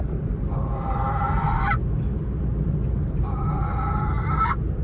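A voice imitates a brooding hen disturbed while sitting on its eggs: two drawn-out, nasal, honking squawks of about a second each, separated by a pause, over a steady low rumble.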